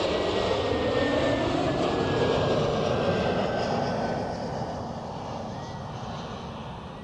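An Airbus A320neo at Zurich Airport roars loudly with a thin, slowly falling engine whine on top, holding strong for several seconds before gradually easing off as it passes.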